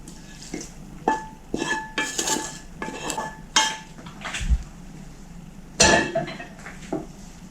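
Potato dumplings with pork cracklings stirred in a pot, a spoon scraping and clanking against the metal in irregular, fairly loud knocks and rattles.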